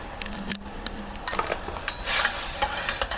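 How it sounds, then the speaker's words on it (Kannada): Spoon stirring mint rice with garam masala in a pan, with a soft sizzle and scraping and clinking against the pan throughout, close and moderately loud, no talking. "ಇಲ್ಲಿ ಹಾಕಿ ಇನ್ನೊಂದ್ಸತಿ ಚೆನ್ನಾಗಿ ಮಿಕ್ಸ್ ಮಾಡ್ಕೊಳ್ಳೋಣ."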